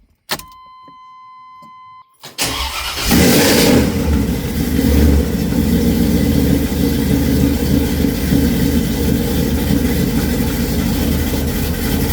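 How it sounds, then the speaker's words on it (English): A 1981 Corvette engine cranks and fires up after a tune-up, then settles into a loud, steady idle up close, following a brief electronic chime and a short pause; no one speaks. "Now we're ready to fire the car up and see how she sounds."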